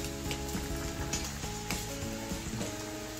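Coconut roasting in a pan for a Tamil coconut rice recipe, giving a steady close sizzle with light scraping and stirring clicks throughout, no talking.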